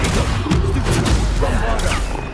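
Explosive Bombarda spell blasts in Hogwarts Legacy combat, a dense continuous barrage of booms and thuds with a shouted spell voice over the fighting.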